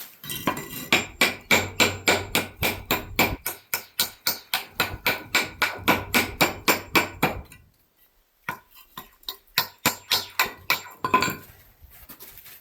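Steady, sharp hammer strikes on stone during drystack stonemasonry, dozens of quick rhythmic taps in two long runs, then a brief pause and a slower, lighter series of knocks.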